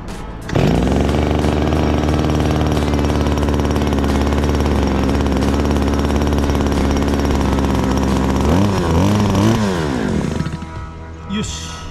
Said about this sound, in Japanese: エンジンポンプ直りました。